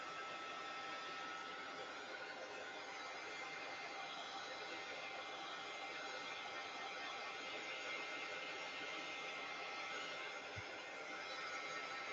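A heat gun blows hot air over glue stick on paper in a craft project, giving a steady, even broadband whoosh that holds for the whole span with no pauses.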